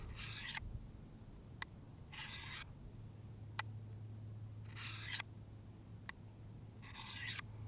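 Knife blade drawn along the rod of a Work Sharp Guided Field Sharpener, four soft raspy passes with small clicks between them, faint and close over a low steady hum, no voices.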